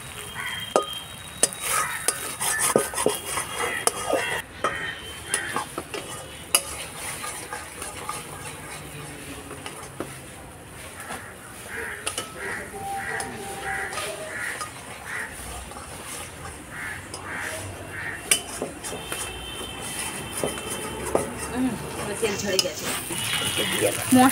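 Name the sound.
stirring and sautéing spice paste for cauliflower nut curry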